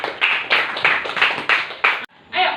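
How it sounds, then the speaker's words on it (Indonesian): Classroom children clap their hands together in a quick, fairly rhythmic burst of about six claps, close and loud, ending with a short pause and a last scuffle of sound. "Tepuk tangan dulu."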